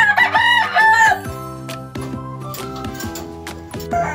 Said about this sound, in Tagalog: ito ngayon yung ating mga manok na pinapahamugan sa umaga